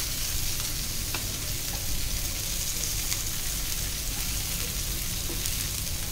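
Fish coated in breadcrumb masala frying in oil with garlic, a loud, dense, continuous sizzle close up with a few faint clicks and no voices.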